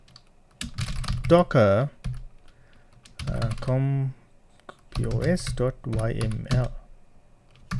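Keys on a computer keyboard clatter as a command is typed, quick close clicks running under and between a man's speech in the foreground.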